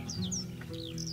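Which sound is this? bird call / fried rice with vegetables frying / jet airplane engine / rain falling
bird call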